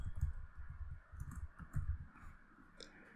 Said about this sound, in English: let's just type console.log